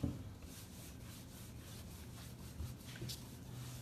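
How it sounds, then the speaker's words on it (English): A towel wiping excess wax off a freshly painted kitchen cabinet, a soft, steady rubbing swish with a few slightly stronger strokes, close and fairly quiet. "pull off that excess wax"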